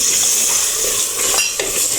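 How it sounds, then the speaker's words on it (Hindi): Mutton frying in a pot with garam masala while being stirred, a loud continuous sizzle and hiss with scraping stirring strokes, close by and with no talking. "अब हम इसको 1 से 2 मिनट है इसमें भूनेंगे"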